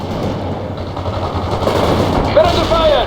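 Dense, continuous gunfire in the World in Conflict real-time strategy game: rapid machine-gun bursts and overlapping shots fill the battle soundscape at steady high loudness, with combat noise throughout.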